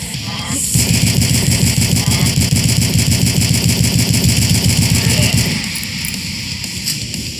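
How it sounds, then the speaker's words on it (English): Assault rifle in the video game DUSK fires in a loud, sustained rapid-fire burst lasting about five seconds, close and dominant, then stops, leaving faint game ambience. "Let's pick up our assault rifle."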